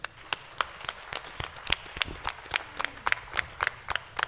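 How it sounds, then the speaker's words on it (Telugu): Audience hands clapping at a church festival Mass, heard as a run of sharp, fairly close claps at an uneven rhythm, some doubled, over a low background murmur. "చప్పట్లు కొట్టండి."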